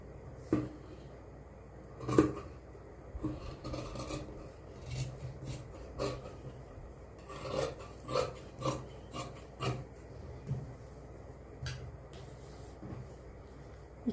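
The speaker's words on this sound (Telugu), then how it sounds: "ఇక్కడ ఇలా కత్తిరి కటింగ్ పెట్టేసుకోవాలి" Scissors cutting through blouse fabric on a table, a series of quiet, close rasping snips and scrapes spaced irregularly across a faint background, no talking.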